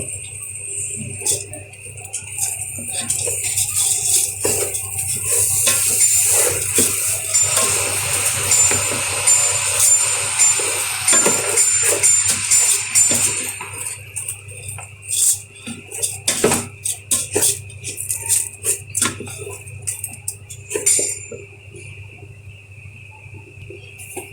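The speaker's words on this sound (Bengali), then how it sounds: "এখন সব কিছু নেড়ে দিব" A metal spoon clanks and scrapes against a pot while chicken biryani ingredients are stirred. The clatter is close and continues unevenly for a long stretch, busier in places and sparser toward the end.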